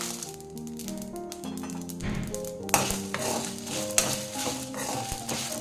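Dried red chillies fry in a pan while cooking chicken masala fry, a steady crackling sizzle with clinking and stirring noises over a background of tonal hum.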